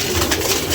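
Pigeons cooing close by, a short burst of soft throaty calls standing alone without talk.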